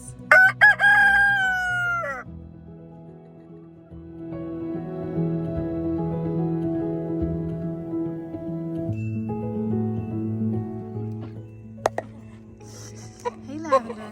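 A rooster crows loudly and close at the start of the coop scene, followed by a steady chorus of hens clucking and chattering, with a few sharp calls near the end.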